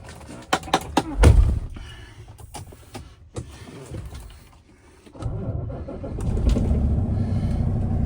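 2018 Kenworth T880 heavy truck with an X15 565hp engine: clicks and brief electrical whirs, then the diesel cranks and catches into a steady, deep, close idle.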